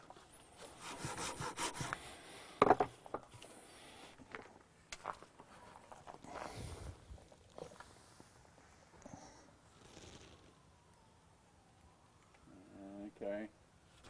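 Wooden stretchers on a rustic chair being trimmed with a hand saw, a few quick rasping strokes of sawing and rubbing on wood, close but moderately quiet, with scattered knocks and pauses between bursts.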